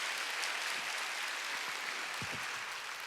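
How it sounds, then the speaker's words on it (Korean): Faint, distant applause from a congregation during a Sunday church service sermon. It is a soft, continuous patter of clapping with a few low thumps. "박수 치려면 치고 말이야."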